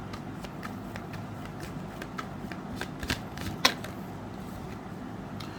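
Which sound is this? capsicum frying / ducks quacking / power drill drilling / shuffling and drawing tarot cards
shuffling and drawing tarot cards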